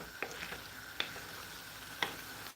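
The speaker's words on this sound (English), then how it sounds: "when you are stirring this, make sure you stir this very, very careful" Black-eyed beans stirred in palm oil in a pot, with soft spoon taps and scrapes against the pot landing roughly once a second over a quiet kitchen background; no one talks.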